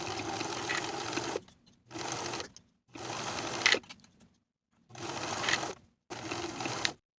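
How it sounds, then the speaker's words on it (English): A sewing machine stitches the back sleeve seams of winter pajamas, running steadily in five bursts of about one to one and a half seconds each, with brief quiet pauses between them, close and clear. "Sew the back sleeve seams with a 5/8 inch seam allowance in the same way as we did for the front."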